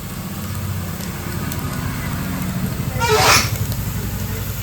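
Garlic sizzling in hot oil in a home kitchen, a continuous crackling hiss with a brief louder surge of spattering partway through.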